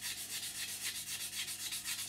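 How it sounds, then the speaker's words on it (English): A thin, small sanding sponge rubs over the detailed, riveted surface of a scale model, making a steady, close, hissing scrape in quick repeated back-and-forth strokes with no voices. "is just going to come along there with a skinny sponge, a little thin one."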